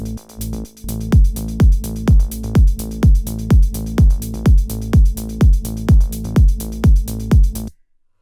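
A melodic techno electronic drum loop with a deep bass line, steady four-on-the-floor kicks pulsing evenly for several seconds before cutting off abruptly.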